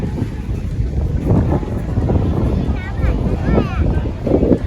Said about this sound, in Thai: ลมแรงมากๆ เลยนะ